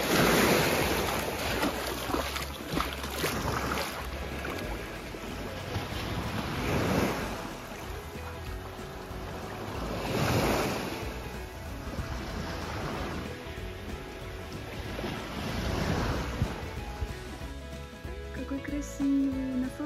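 Sea waves wash onto a tiny beach beside the port on Ischia, Italy, in repeated surges every few seconds with wind buffeting the microphone, while people talk over it.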